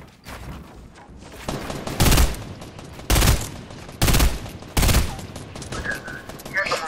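Bursts of video game gunfire arrive in four loud volleys spaced about a second apart, with quieter shooting and game noise between them and player voices talking over the action.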